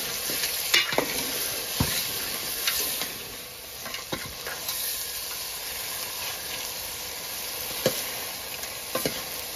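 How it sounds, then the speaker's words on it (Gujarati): Fish fries in hot oil with a loud, continuous sizzle and crackle, broken by scattered sharp pops and ticks. "તેલમાં પકાવીએ છીએ"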